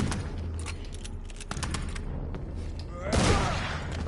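Gunfire from the vampire action game Vampyr, with several sharp shots and bursts spread through a busy combat mix, ending in a louder blast near the end.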